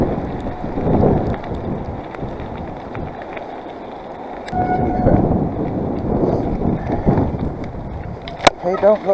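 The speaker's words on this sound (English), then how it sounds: "Didn't say anything in the weather report about gusts." Gusty wind buffeting the microphone during a drive out in an older car, a broad rushing roar that swells and fades in bursts, with a brief sharp knock near the end.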